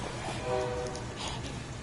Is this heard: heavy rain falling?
no